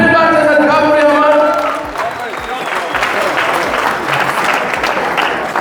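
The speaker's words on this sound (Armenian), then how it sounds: "Ծափերը բարձր են Գավորի համար։" Wedding guests in Artashat break into loud, sustained clapping. It swells in after a brief stretch of a speaking voice and carries on densely to the end.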